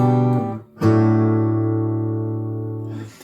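Guitar notes ring out, a short note and then a long sustained tone that slowly fades over a few seconds. It is clean and close, with no voices.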